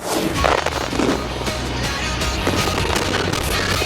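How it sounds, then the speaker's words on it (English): Dense, continuous crackling and booming of a fireworks finale at an Independence Day event in Irving, Texas, heard at a distance, bursts overlapping into a loud rolling rumble with no clear pauses. "A fireworks finale capped off Irving Sparks and Stripes"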